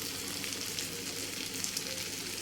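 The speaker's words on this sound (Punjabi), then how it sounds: "ਹੁਣ ਆਪਾਂ ਜਿਹੜੀ ਪਾਲਕ ਗ੍ਰੈਂਡ ਕਰਕੇ ਰੱਖੀ ਸੀ ਇਹ ਪਾ ਦਾਂਗੇ" Spinach puree goes into a frying pan with corn for palak corn sabji, giving a steady, close hissing sizzle throughout with no speech.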